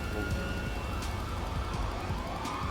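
Police siren wailing continuously in the video game GTA V, a steady rising and falling electronic tone over a low engine rumble, fairly loud and close.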